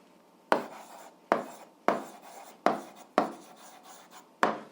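Pen strokes scratch across paper while an answer is written down, six distinct bursts of scribbling with short pauses between them, close and fairly quiet.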